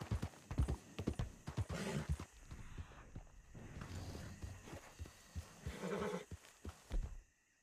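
Horse hooves clip-clopping in Red Dead Redemption 2, a run of irregular close thuds with snorts and tack noises, heard alone without talk.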